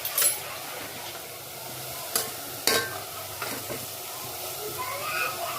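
Pomfret fish hits hot, oil-releasing masala in a pan and sizzles steadily, with a few sharp clatters of a utensil stirring and scraping close by throughout.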